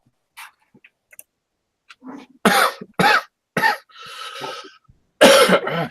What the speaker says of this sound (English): Can you please not cough